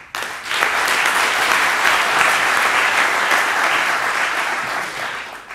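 An audience at a round-table conference on car sales to businesses gives a speaker a long, even round of applause. The dense clapping rises quickly, holds steady throughout and fades slightly at the end, with no speech.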